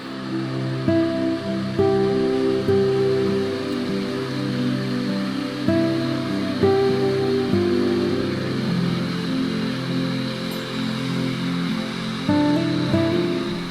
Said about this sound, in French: La cascade du Sartre s'écoule dans un couloir de roches volcaniques stratifiées qui canalise l'eau sur plusieurs petites chutes successives étonnantes.